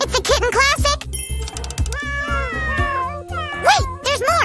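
A human voice imitates a kitten's meow with a series of high, sliding mewing cries over a rhythmic background beat and a faint tinkling.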